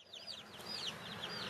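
Cornish Cross meat chicks in a brooder, a crowd of high, rapid peeping calls overlapping continuously at close range over a soft background hum.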